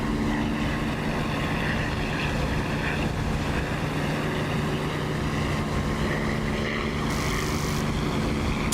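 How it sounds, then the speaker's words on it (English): A Corsair propeller fighter flies high in the DCS flight simulator, a loud, steady engine and propeller drone holding without break throughout. "I've taken the Corsair up to 45k."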